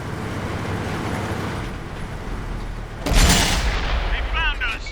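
A tank gun firing HEAT shells in World of Tanks, with the 113 or Conqueror on the Karelia map: a steady rumble of engine and battle noise gives way to a loud blast near the three-second mark, followed by ringing debris.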